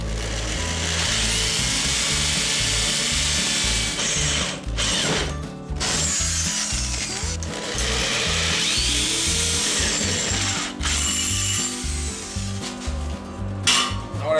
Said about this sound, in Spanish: a la hora que nosotros taladremos, nuestra broca no se va a mover tanto